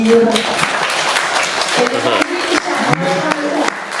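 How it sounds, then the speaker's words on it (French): An audience at a gaming event applauds in scattered, moderately loud clapping, with voices speaking and a few louder claps breaking through the clapping. "vous pouvez vous applaudir."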